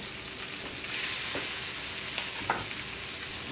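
Green onions and garlic scape pesto sizzle steadily in a hot pan beside seared salmon, a loud continuous frying hiss with a few soft stirring clinks, close up and without talk.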